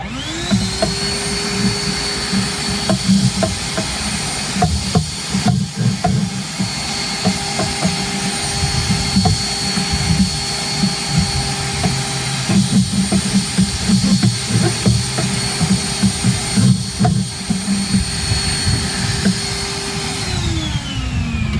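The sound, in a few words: vacuum cleaner cleaning dog hair off cabinets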